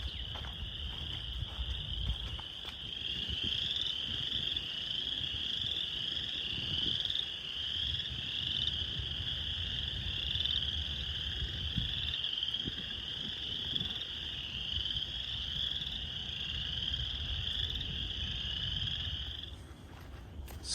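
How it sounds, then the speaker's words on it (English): Spring peeper frogs calling from Cowles Bog on a spring day: a steady, high shrill chorus heard from a distance, with low wind rumble beneath. "You can still hear the peepers, but they're definitely farther away, not in this section of the swamp."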